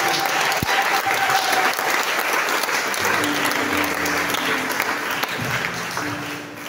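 A church congregation at a French-language service breaks into sustained, loud applause, a dense steady clatter of many hands that fills the room, with faint voices and tones underneath.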